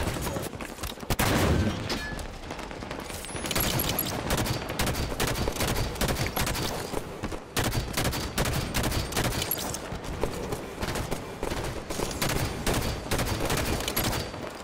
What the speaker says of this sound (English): My rockets shoot free rockets?